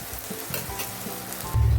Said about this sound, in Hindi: अदरक लहसुन अच्छी तरह भून के हो गया है